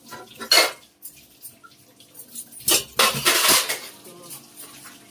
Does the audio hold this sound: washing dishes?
yes